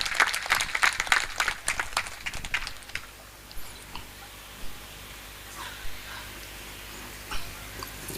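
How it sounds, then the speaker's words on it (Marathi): A crowd claps loudly and steadily at an inauguration ceremony for a kirtan school, a dense burst of applause lasting about three seconds before it fades into a quiet hall with a few faint knocks. "वेल्हाळ परिवाराकरता जोरदार टाळ्या होऊ द्यात."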